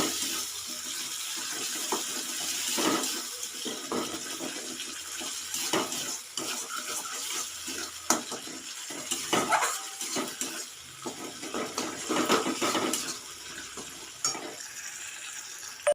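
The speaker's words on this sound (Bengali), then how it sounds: "তেল না ছাড়া পর্যন্ত ভালো করে কষিয়ে নেব।" Spice masala is sautéed and stirred in oil in a pan until the oil separates. Faint sizzling sits under irregular scrapes and clinks of a spoon against the pan, with no talk.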